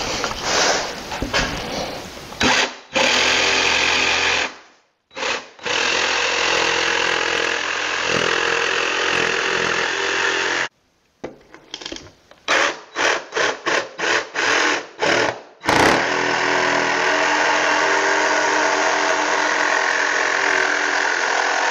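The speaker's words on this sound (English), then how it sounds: "Now I got to cut out the feeding tray out of this piece of plywood." A power tool cuts a feeding tray out of half-inch exterior plywood, running loud and steady in long passes broken by brief pauses, then stuttering through short on-off bursts before a final sustained cut.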